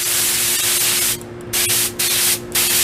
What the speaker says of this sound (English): the compressed air from the compressor is going to move that dirt out of the way